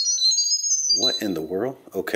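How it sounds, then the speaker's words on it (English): A smart light bulb camera emits a high electronic beep tone during setup at the very start, followed by someone speaking. "I did hear a beep or something coming from the camera itself"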